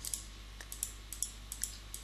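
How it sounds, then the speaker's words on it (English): A computer mouse clicks repeatedly while painting in Photoshop, soft close taps in an uneven rhythm of about ten clicks over a faint quiet background. "I'm just clicking"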